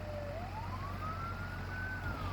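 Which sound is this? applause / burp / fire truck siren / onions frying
fire truck siren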